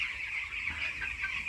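Eighteen-day-old poultry chicks in a shed give a steady, continuous chorus of overlapping clucks and peeps, moderately loud and unbroken throughout, with no voices.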